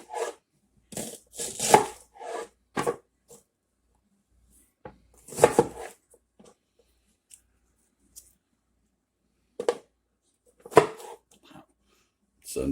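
A knife chops through slices on a cutting board in sparse, sharp thuds separated by quiet pauses, close and fairly soft.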